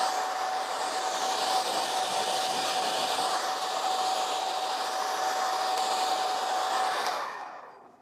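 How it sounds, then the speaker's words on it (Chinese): A hair dryer blows steadily on short hair along the hairline, a continuous close whoosh with a faint whine, alone and unbroken for about seven seconds before cutting off. "好，我们把发际线边缘吹贴服。"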